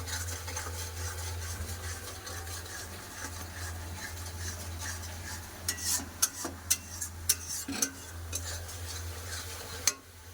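Turmeric and cumin spice mix stir-fried in a pan gives a continuous sizzle under a low steady hum, with a run of sharp utensil clicks and taps near the end.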